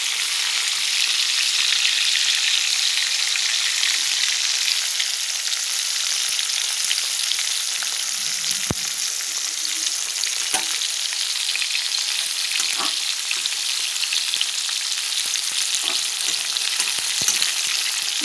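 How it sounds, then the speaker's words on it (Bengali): Slices of eggplant fry in a hot pan with a constant bright sizzle and occasional stirring scrapes and small pops, no one speaking. "2 পিস বেগুন এই দেখো আমার জন্য আমি নিলাম ভাজা করবো"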